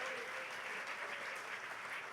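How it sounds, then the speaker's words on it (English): An audience at an evening event with John Fogerty applauds in a faint, steady, distant wash of clapping that holds evenly throughout. "that's worth applause."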